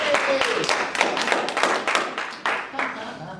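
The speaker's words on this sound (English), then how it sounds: "Does he deserve an applause?" A small audience at a parenting talk claps for the host, uneven, fairly close handclaps with distinct individual strikes, while someone talks over them.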